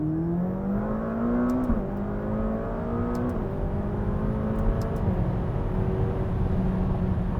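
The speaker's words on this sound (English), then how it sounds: "Just that engine. Let's listen to that again," Engine of a McLaren 570S Spider supercar accelerating, a loud close rising drone that climbs in pitch through several gear changes with brief dips between shifts, heard alone without talk.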